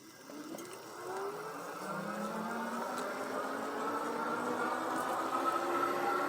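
A RadRover 6 Plus electric bike accelerates on throttle, its motor whine rising steadily in pitch as it gains speed, a smooth, moderately loud whir with faint wind noise.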